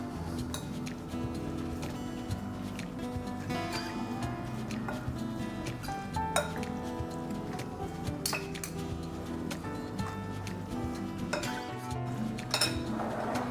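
A vegetable and fruit salad with raspberries is stirred in a bowl, with steady soft clinks and scrapes of a utensil against dishware continuing throughout, close and moderately loud with no talking.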